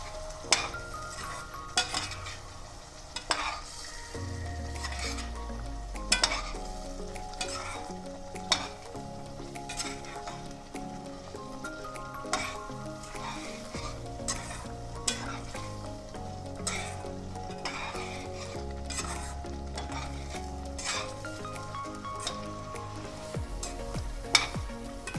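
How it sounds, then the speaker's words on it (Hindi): Chicken is stirred and fried in masala in a pan, with a steady sizzle under repeated scraping and clinking of a utensil against the pan, close and fairly quiet. "इसको 2 मिनट हम भूनेंगे इसमें मसाले में चिकन को"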